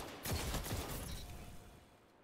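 Jade Rabbit rifle firing in Destiny 2 Lightfall, a quick run of several sharp shots close up, each with a ringing tail fading over about two seconds, no talk.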